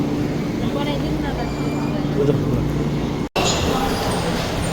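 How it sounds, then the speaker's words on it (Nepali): A train stands in a station about to depart, a steady low rumble and hum with faint squeals above it, broken by one sharp instant of silence, while a person talks nearby. "ल हामी आएको यो चाहिँ ट्रेन चाहिँ जान लागेको अवस्था हो"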